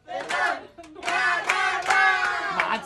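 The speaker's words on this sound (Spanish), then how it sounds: "¡Un aplauso para el Pelón!" A party crowd claps and shouts for a birthday celebration at Volcanes, Aguascalientes, with quick bursts of applause mixed with cheering voices.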